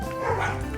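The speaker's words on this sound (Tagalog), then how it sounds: "Belgian Malinois." A large black Belgian Malinois gives a single short, close bark, or a brief yip, with a faint voice in the background.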